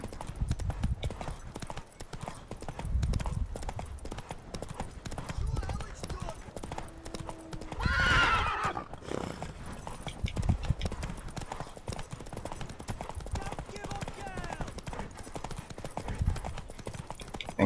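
Horses racing in The Witcher 3: Wild Hunt, a rhythmic clip-clop of hooves running steadily under speech, with a brief whinny midway.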